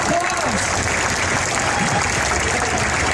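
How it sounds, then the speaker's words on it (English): Audience applause at a cosplay contest at The Gathering 2014, dense steady clapping filling the whole moment, loud and close, with crowd noise mixed in. "applause!"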